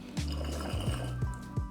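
Water draining down inside a POTV mini bubbler, with several low gurgling bubble pulses in a loose rhythm, close and fairly quiet.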